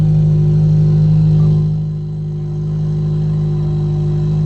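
From inside the cabin, a loud car engine idles with a deep, steady rumble that dips slightly midway and then holds on, close and alone with no talk.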